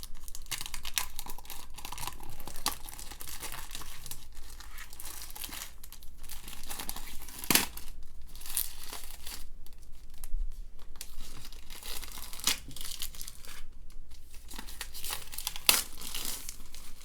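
Shrink wrap crackles and crinkles as it is torn off a tarot deck box, with close, continuous plastic rustling and a few sharper tearing snaps, without any talking.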